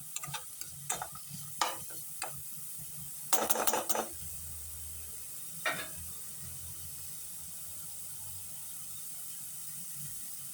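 A metal spoon scrapes and clicks as it stirs chillies and other ingredients in a hot cooking pan. A quick run of sharp clatters is followed by a faint, steady sizzle, and no one speaks.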